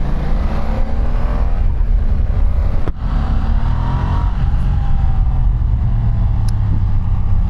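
Ducati Multistrada V2 motorcycle ridden at low RPM, a loud, steady engine drone with smooth pitch changes and heavy wind rush throughout, a brief dip midway.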